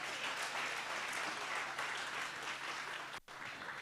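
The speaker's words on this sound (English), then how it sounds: "We really need to give them a round of applause" An audience applauds performers at a school event, a steady wash of clapping heard somewhat distantly, with a brief dropout before it carries on.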